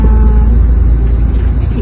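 A regular bus engine heard from inside the cabin, a loud, steady low rumble that holds throughout with a faint hiss near the end.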